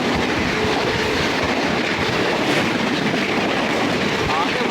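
The Farakka Express from Balurghat to Bathinda rushes past on the neighbouring track as a steady, loud rumble of wheels and coaches. It is heard up close from inside a moving general coach, and a faint voice may sit under the noise.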